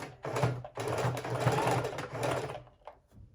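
A sewing machine stitches the fabric cover of a handmade junk journal book, running steadily close by for about two and a half seconds, then stopping with a faint trailing sound.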